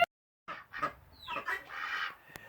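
Farmyard chickens cluck at feeding time, a few short close calls and rising squawks in quick succession, fairly faint with no talk.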